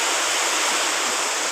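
On a rainy day, water pours down in a steady, loud, continuous rushing hiss, with no voices.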